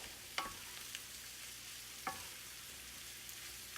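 Kielbasa and onions being stirred together in a frying pan: a soft background sizzle broken by a couple of sharp utensil scrapes and clicks against the pan, fairly quiet, with no talking.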